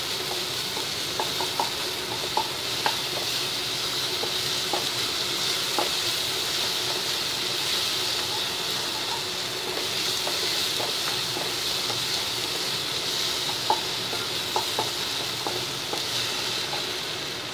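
Chopped tomatoes fry in oil in a pan over a low flame and start breaking down, giving a steady sizzle with scattered small pops throughout.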